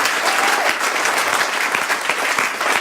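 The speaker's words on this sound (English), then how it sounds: "You want to give the corresponding applause?" Crowd applause after a presentation at an event, dense and continuous clapping from many hands at a fairly loud, even level throughout.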